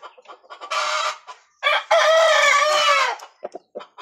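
A fighting rooster, a junglefowl kept at a backyard breeder's yard in the province, gives loud close crows and bursts of clucking, broken by short pauses with no speech.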